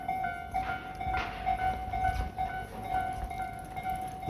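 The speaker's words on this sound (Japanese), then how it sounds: "あ東上線だ。 おまた三万系が来た。" A Tobu Tojo Line 30000 series train approaches an always-closed level crossing at Hibarigaya near Kita-Ikebukuro, its rumble rising over the steady ringing bells of the crossing signal.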